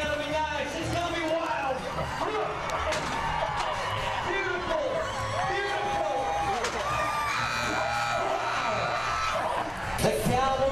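A rodeo crowd at a saddle bronc ride roars steadily with whoops and yells throughout, dense and sustained, while an announcer's voice runs over the cheering.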